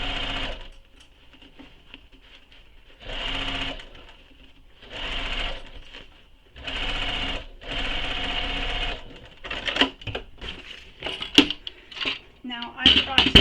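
A sewing machine stitches fabric for a convertible bag in several short, close bursts of rapid mechanical whirring separated by pauses, and clicks and handling sounds follow.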